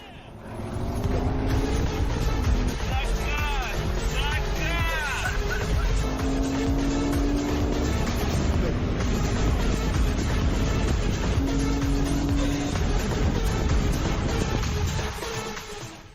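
A Lexus RC-F 500 and a BMW M4 race side by side, their engines roaring loud and sustained as they accelerate hard, with gear shifts heard along the way, under brief talk.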